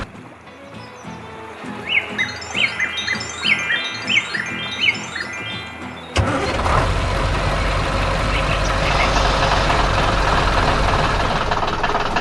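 An animated blue Ford tractor works hard on a farm harvesting giant carrots. Bright chirpy tones give way to a loud, steady, rumbling engine drone.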